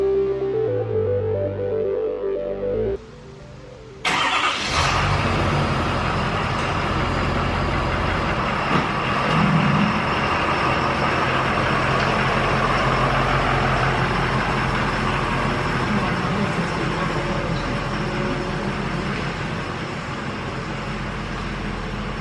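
A wrecked 2018 Ford F-250 truck under repair starts up after a short quiet stretch, then its engine settles into a steady, fairly loud running drone as it drives, continuing evenly with no talking.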